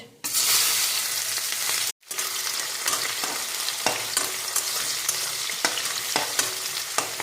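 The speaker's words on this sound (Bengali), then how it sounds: "ফোড়ন দিয়ে দিব, গরম মশলা, কাঁচা লঙ্কা আর পেঁয়াজ" Garam masala, green chillies and onion tempering in hot oil sizzle loudly and continuously, with a brief cut-out partway through and intermittent stirring scrapes in the steady hiss.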